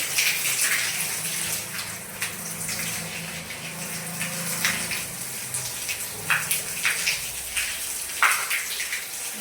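Water runs steadily into an aquarium tank throughout, a continuous splashing gush with scattered droplet sounds and no voices.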